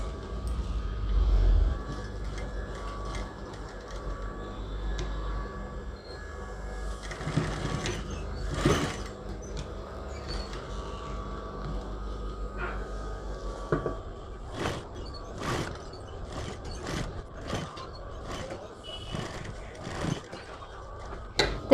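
A sewing machine stitches a zip into a lehenga in quiet, intermittent bursts of light mechanical clatter. A cluster of sharp ticking clicks comes near the end, with faint background voices.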